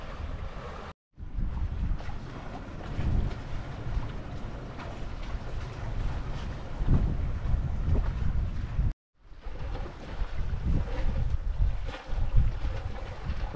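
A sailboat under way in strengthening wind, heading south toward the UK: loud continuous wind buffeting and rushing water, close and steady, with two brief dropouts and no talk.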